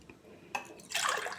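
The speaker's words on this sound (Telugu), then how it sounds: "దీంట్లోనే మనం వాటర్ పోసుకుందామండి" Water from a glass splashes into a pot of flat bean and tomato curry. A couple of soft drips come first, then a short, close pour.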